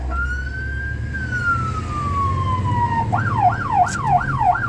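A fire truck on its way to a grass fire sounds its siren in traffic, a long rising and falling wail that switches to a rapid yelp, loud and close over engine rumble.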